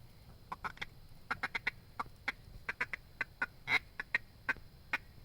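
A hand-blown duck call imitating one or two feeding mallards: quiet, irregular bursts of short clucking chuckles scattered over a few seconds, with no talking.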